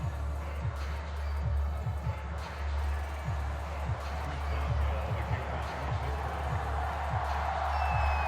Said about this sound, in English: Big Ben Roethlisberger greeted by this sold-out Heinz Field crowd